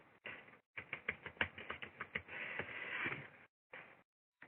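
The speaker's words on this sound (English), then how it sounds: "I could just type in last year" Keys on a computer keyboard tap in a quick, uneven run of close clicks, with short pauses between bursts and no talking.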